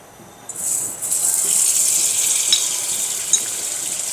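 Butter hits a hot pan for boiled-flour roti and breaks into a loud, continuous hissing sizzle that swells after a quiet start and holds steady, with a couple of small pops.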